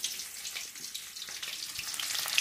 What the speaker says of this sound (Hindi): वो डाल दिया मैंने थोड़ा सा प्याज